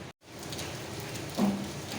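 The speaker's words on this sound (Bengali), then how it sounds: "আজকের ওয়েদারটা খুবই সুন্দর ঝিরে ঝিরে বৃষ্টি হচ্ছে দেখো" Light drizzle falls steadily as a soft, continuous patter on surfaces, with a brief dropout near the start and a faint short tone midway.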